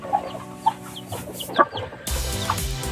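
White Aseel chickens with their chicks clucking close by, a string of short separate clucks and peeps, joined near the end by a steadier, louder farmyard noise.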